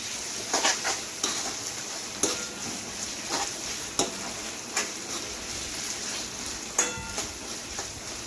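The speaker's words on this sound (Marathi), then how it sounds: "आता याला छान आपण भाजून घेऊया सर्व साहित्य" Ginger-garlic paste and other ingredients for dal khichdi roasting in oil with a steady sizzle, while a spoon scrapes and stirs in intermittent strokes, up close and without speech.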